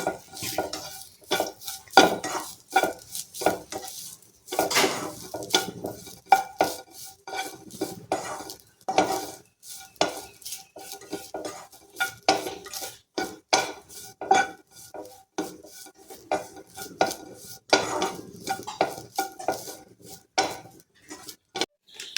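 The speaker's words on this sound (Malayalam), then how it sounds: "ഞാൻ തേങ്ങയിട്ടുണ്ട് ഒരു തേങ്ങയുടെ പകുതി ഇതൊന്ന് നന്നായി വറുത്തെടുക്കാം" Half a grated coconut is roasted in a pan, stirred with a utensil in repeated scraping and clattering strokes against the metal, loud and close, with quiet gaps between bursts and no talk.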